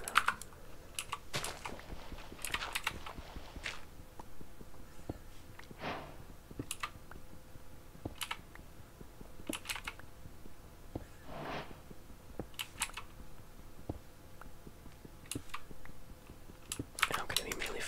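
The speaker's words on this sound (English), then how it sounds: "I'm going to be mainly focusing on like the sounds of the game and my keyboard and mouse." Steady computer keyboard typing with bursts of key clicks and occasional mouse clicks runs under soft game sounds during a Minecraft ASMR session, close and gentle throughout.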